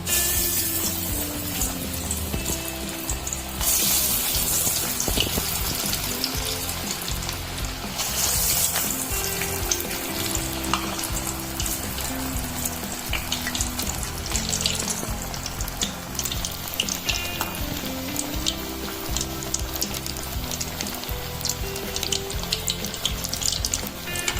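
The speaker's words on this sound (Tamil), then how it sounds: "இப்போ வடையை தட்டி போட போகிறேன் எண்ணெயில்." Banana flower vadas frying in hot oil, a steady bubbling sizzle that runs continuously and fairly loud, with occasional brighter crackling bursts and no talk.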